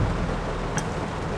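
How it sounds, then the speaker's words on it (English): Steady rain pours down on a farm during a flash-flooding storm, with a brief crack of thunder or impact in the middle of the constant hiss. "rain a fall, flash flooding a go on"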